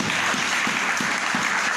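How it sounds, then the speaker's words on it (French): A church congregation claps loudly in a dense, sustained round of applause, steady throughout with faint rhythmic beats beneath. "Applaudissons votre Dieu."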